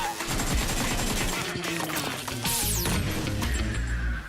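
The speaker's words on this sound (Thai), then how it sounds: "นี่ครับยิงทะลุกำแพงไปเลยสิครับ" Rapid bursts of gunfire shooting through a wall in PUBG Mobile, dense overlapping shots with impacts and a crash, loud and close, with a voice talking over it.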